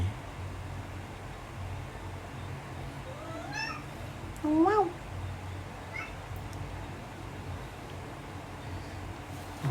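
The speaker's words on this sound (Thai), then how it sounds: "แมวที่ห้องผมมันร้องบอกเอะเะ บอกเอ๊ะ" A cat meows a few times, one short cry near the middle louder than the others, against a quiet room's background hiss.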